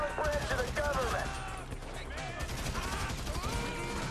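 AK-47 fire from an army shootout in Grand Theft Auto 5, with dense, sustained bursts of rapid gunshots and overlapping game effects, loud and continuous throughout.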